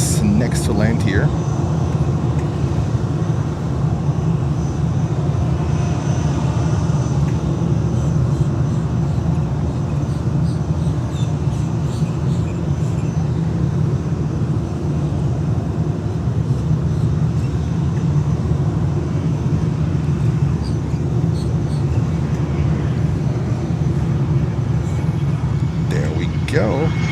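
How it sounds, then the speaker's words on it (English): A 28-year-old Cessna Citation X business jet comes in to land at Fort Lauderdale airport, its loud, steady jet roar and rumble filling the air continuously, with people talking over it. "Citation X next to land here."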